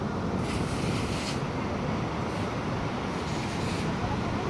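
Strong, heavy ocean surf at Barra de Santiago, crashing and rushing continuously with broad roaring noise and wind buffeting the microphone.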